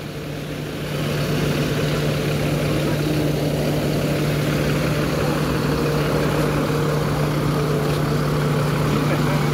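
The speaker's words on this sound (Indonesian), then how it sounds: "Garing mesinnya mantap." The engine of an ALS intercity bus idles in Palembang as a steady, loud, low rumble with a constant hum, continuous throughout amid outdoor bus-station ambience.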